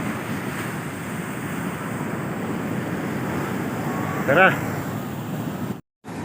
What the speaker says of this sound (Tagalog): Grabe mga alon dito guys.